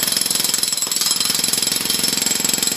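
Jackhammer fitted with a big flat steel plate rams earth down into a footing during an exploratory dig, a loud, steady rapid pounding that continues without pause.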